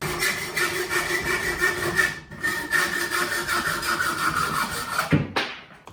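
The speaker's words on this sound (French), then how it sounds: "là je suis en train de faire des découpes. Voilà, je les fais à la main avec une scie," Steady back-and-forth rasp of a handsaw cutting wood pieces for a homemade virtual organ, continuous strokes close by, with a short pause midway and a final clatter.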